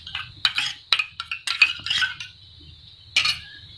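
A spoon stirs a Schezwan chutney mixture in a pan for a cheesy bread pizza cooked on a tava, with a string of sharp metallic clinks and scrapes in an irregular rhythm and a short pause before a final clatter.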